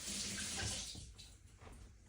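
Tap water runs steadily into a sink while hands are washed under it in a home kitchen, a continuous close splashing hiss that thins out and turns more irregular toward the end.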